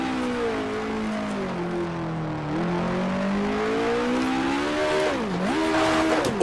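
A 1966-era open-wheel race car engine in the Grand Prix Legends racing game at the Lady Wigram Trophy, Tasman Series, screams at high revs, steady and continuous, with pitch sweeping and dipping sharply near the end as it over-revs.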